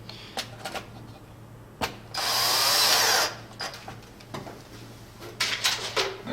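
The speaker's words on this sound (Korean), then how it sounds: "제가 지금 까만색 피스 같은 걸로 고정시키고 있는데요." Power screwdriver driving black screws to fix a 12-pin socket onto a perforated control panel, with one loud whirring burst of about a second amid light clicks and handling taps nearby.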